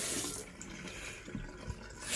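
Water runs from a newly fitted kitchen mixer tap into the sink, a steady close hiss and splash lasting throughout with small bubbling fluctuations.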